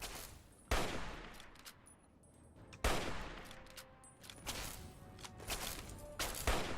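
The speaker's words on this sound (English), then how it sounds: "I love the hunting rifle so much." Hunting rifle shots in the video game Fallout 3: two sharp, loud single reports a couple of seconds apart, followed by a scatter of smaller gunfire cracks and impacts.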